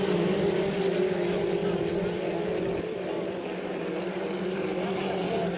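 A Bad Influence racing hydroplane with a 2.5-litre engine at full acceleration during a race final at St-Félicien. It gives a loud, sustained, steady engine roar that holds throughout, with race commentary spoken over it.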